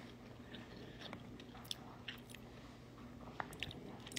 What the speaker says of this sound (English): That piece of chicken I just chewed